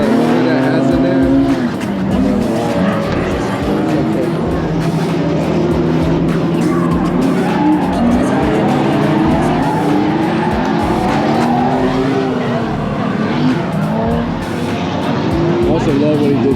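Drift car at a Club Loose event in Texas, engine roaring hard and steady throughout with intermittent tire squeal layered over it, loud and close, with voices talking over the noise.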